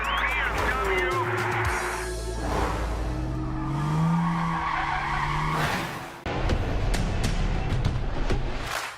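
A BMW drift car skids through a Formula Drift Atlanta top-32 run, loud tire squeal and engine roar under an announcer's voice, with a brief break before the noise surges back.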